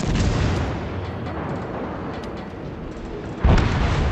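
Warship taking hits during naval combat in a video game: a continuous heavy rumble of battle noise with a sharper, louder boom near the end, with no talking.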